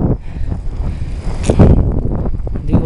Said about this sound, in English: It's not really warm, kind of breezy, easy breezy.